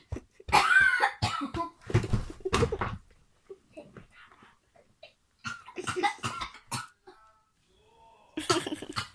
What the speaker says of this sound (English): I'm coughing to death.